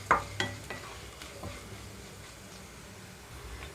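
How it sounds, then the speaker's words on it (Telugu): Coriander seeds dry-roasting in a pan while preparing spices for mutton curry: faint, sparse scraping and rattling stirs, a few sharper taps at the start, then a soft low hiss. "ఇక్కడ ధనియాలు మాత్రమే ఇందులోకి వేసి వేయించుకుంటున్నాను"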